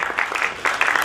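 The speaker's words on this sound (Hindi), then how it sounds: "जो 3-4 लोग ताली बजा रहे हैं" Scattered clapping from a handful of people in the audience at a Hindi comic poetry gathering, quick uneven claps over about a second, fairly close and without talk.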